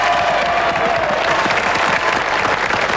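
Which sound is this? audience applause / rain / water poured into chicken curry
audience applause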